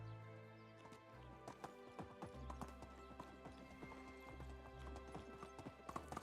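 Horse hooves in the Medieval Dynasty video game, rapid, clear clip-clopping on a hard surface in a steady trotting rhythm over a low tonal game music bed.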